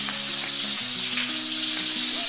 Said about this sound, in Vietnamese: Mình chiên cho hai mặt cá nó vàng đều hết là được.